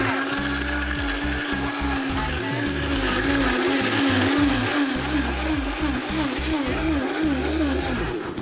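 A Vitamix E320 high-performance blender runs with water and vegetable stock, giving a loud, steady, close motor whir with a slightly pulsing churn throughout and a voice faintly present.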